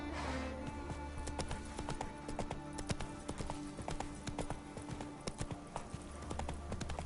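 Horse hooves in The Witcher 3 on PS5, a rapid, steady clip-clop of galloping with sharp, evenly spaced beats over a low game ambience, fairly quiet and continuous.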